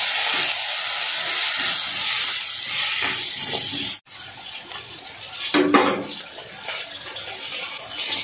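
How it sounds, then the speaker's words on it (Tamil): Masala for an okra (vendakkai) kuzhambu sizzles steadily in a pan, a constant broadband hiss that drops sharply partway through, then continues more softly with a brief clatter. "இந்த மசாலாவை நல்லா வதக்கிடலாம்."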